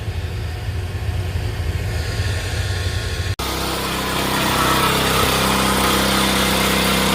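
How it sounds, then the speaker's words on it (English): A farm machine's motor runs steadily during wheat harvest, a continuous loud engine drone with low harmonic hum that shifts abruptly to a rougher, louder tone partway through, with no talk. "my motor seems to be running good"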